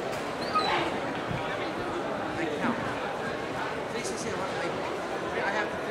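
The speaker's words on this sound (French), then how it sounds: "nous avons aussi 5 chiens qui ont un très bon nez pour dénicher des truffes" Several truffle-hunting dogs bark and whimper in short yips amid a busy outdoor background, with people talking throughout.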